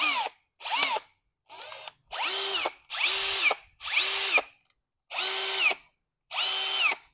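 A Metabo-Hitachi cordless drill with a 13 mm chuck spins up and stops in eight short, loud whirring bursts. Each burst rises sharply in pitch, and silent gaps separate them, heard close and alone.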